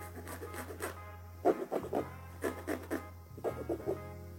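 Thick, dense bag fabric similar to X-Pac, handled and rubbed up close in a few short bursts of crinkly rustling and scratching that are separated by brief pauses.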